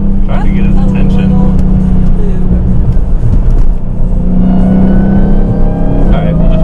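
A Dodge Challenger Hellcat Redeye engine revs loudly and steadily at close range, a continuous throaty rumble that swells and holds throughout, with voices talking over it.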